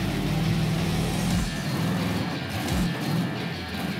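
An off-road buggy's engine roars and revs as it climbs over a large obstacle on a dirt circuit, loud and close with rough throttle surges.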